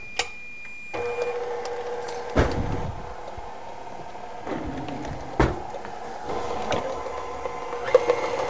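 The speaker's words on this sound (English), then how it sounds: "we're going to go ahead and mix this up until it's smooth" Pumpkin cheesecake filling with eggs and spices being mixed until smooth: a steady close mechanical whir with occasional knocks and clatter, no talk.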